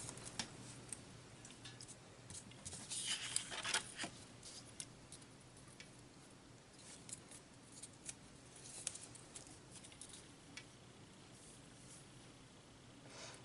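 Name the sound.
scissors cutting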